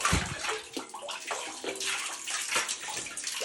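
Water splashes and gushes from a hand-pumped Abyssinian well spout, the pouring broken into uneven bursts, close and fairly loud with no talk.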